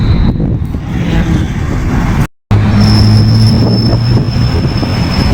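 A train passing close by in Dubai, a loud continuous rumble of wheels on rail with a sustained high whine and squealing tones, broken by a short gap.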